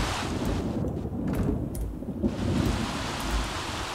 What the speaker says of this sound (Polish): Znowu pada deszcz, więc z dzisiejszego spaceru nici.